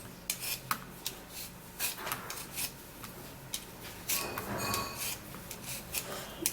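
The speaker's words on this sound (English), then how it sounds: "we'll have to first of all peel the potato" Potato being peeled by hand, a series of soft, close scraping and rasping strokes in an uneven rhythm, fairly quiet, with no talking.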